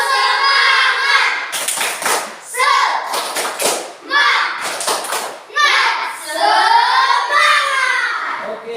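A class of children performs a rhythmic clapping cheer, chanting loudly in unison between sharp bursts of patterned hand claps, close and energetic.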